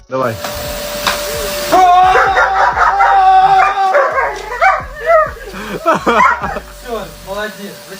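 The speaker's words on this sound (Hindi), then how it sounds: "उसका कुत्ता अपने ओनर को बचाने के लिए जोर जोर से भौंकता है" A dog barks loudly and repeatedly at a vacuum cleaner hose during a prank, sharp yips and whimpering bursts in uneven clusters, mixed with the vacuum's hum and some voices.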